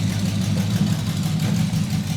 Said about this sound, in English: It lays right down to idle and just purrs smooth